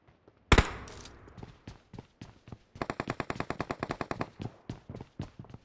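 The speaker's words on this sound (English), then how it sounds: "I'm getting shot!" Video game gunfire starts with a loud blast, then comes a rapid, evenly spaced burst of automatic shots at close range, followed by scattered single shots.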